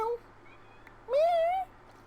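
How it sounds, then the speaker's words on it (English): Cat meowing in the Minecraft video game, two clear in-game meows, a short one and then a longer rising-falling one, heard alone over a faint steady hum. "Kitty cat."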